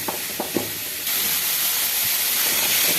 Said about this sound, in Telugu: ఇప్పుడు ఇవన్నీ కూడా మనం ఆనియన్స్, క్యారెట్ అన్నీ వేసేసి ఒక 2 minutes అలా వేపేద్దాం.